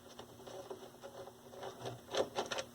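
Screws being removed from the chassis of a 1973 Toshiba C321 13-inch hybrid tube/transistor colour TV, heard as faint, close mechanical clicks and scrapes that grow slightly busier toward the end.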